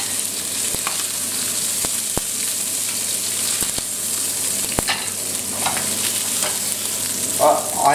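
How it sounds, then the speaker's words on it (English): Lamb pieces browning in a hot pan, a loud, continuous close sizzle with sharp crackles and occasional scraping as the meat is moved, no talk. "now I'm just going to take that lamb out now of the pan and fry off the next lot"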